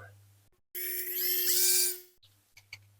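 A small high-pitched drill with a 1.5mm bit whines steadily for just over a second starting a hole in a diecast toy car, close up, then spins down, with brief clicks and handling noises after.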